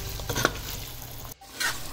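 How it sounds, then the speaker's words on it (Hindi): Mutton for a Bakra Eid stew being stir-fried with spices in desi ghee, a steady close sizzle with stirring scrapes throughout, briefly dropping out near the end before resuming. "और अब हम इसको अच्छी तरह इसकी भुनाई करेंगे, इतनी भुनाई करेंगे कि इसका ऑयल सेपरेट हो जाए"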